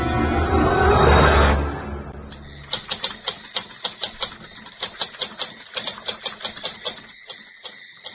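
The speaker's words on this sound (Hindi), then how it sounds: "टाइपराइटर की बटन दबने की आवाज सुनाई दे रही थी" A burst of noisy rustling gives way to a steady run of crisp typewriter key strikes, evenly paced and close, with no voices.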